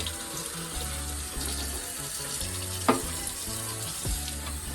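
Running tap water splashing steadily over a cracked RC car body to rinse off soap, with a continuous close wash and one sharp knock partway through.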